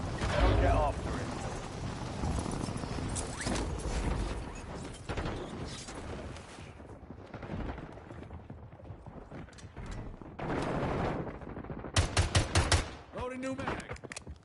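Video game gunfire: repeated bursts and rapid automatic shots, loud and close, with scattered mechanical clatter and game voice lines mixed in.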